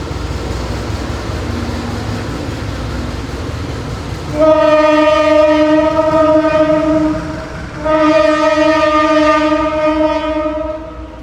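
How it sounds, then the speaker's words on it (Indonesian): A loud diesel locomotive horn, from a BB 203 locomotive arriving at a station for coupling to a train, blasts twice over a low engine rumble, the first long blast followed by a short pause and a second sustained blast. "Nah, ini dia lokomotif datang. Persiapan gandeng ke rangkaian Putri Deli."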